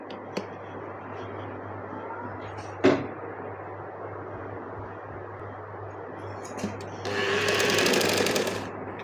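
A sewing machine stitching a trouser seam, with a low steady hum, a sharp clack early on and a brief burst of fast, louder running stitching near the end.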